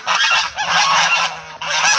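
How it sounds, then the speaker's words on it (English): A flock of geese honking loudly and continuously, many overlapping calls close by with a brief dip partway through. "And there are the stupid geese."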